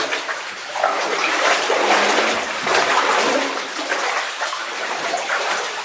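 Rushing water and a small waterfall roar steadily inside an underground placer gold mine tunnel, a continuous loud broadband wash with no pause.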